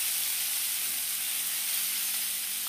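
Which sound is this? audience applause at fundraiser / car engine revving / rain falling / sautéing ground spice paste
sautéing ground spice paste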